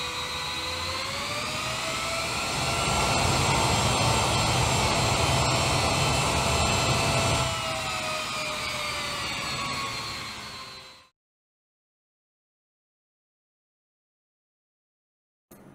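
Business-jet reverse thrust in Microsoft Flight Simulator, a loud steady roaring whine with rising and falling tones that swells and then cuts off abruptly into silence.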